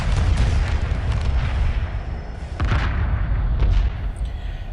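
A carrier ship blowing apart in the space strategy game Homeworld Remastered, a continuous heavy roar of booming blasts with deep low rumble and a fresh surge of explosions partway through, then fading slightly.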